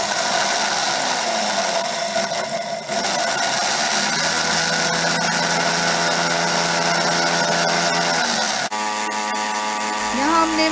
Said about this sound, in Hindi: यहाँ हमने मसाले को जो है ग्राइंड कर लिया है, बारीकी से पीस लें।